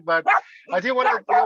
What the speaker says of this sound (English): Sorry, that's my dog back there.